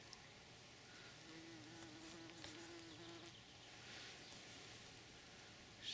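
A faint, steady buzz of bees on nettle with a brief clearer drone from a passing bee, heard against quiet garden background hiss in mid-April.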